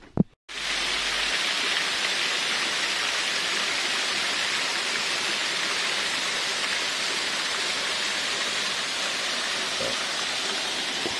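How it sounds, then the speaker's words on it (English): An ever-flowing waterfall pours continuously, a loud, steady broadband rush that begins abruptly after a brief quiet moment and holds unchanged throughout, with no voices over it. "The ever-flowing waterfall down here"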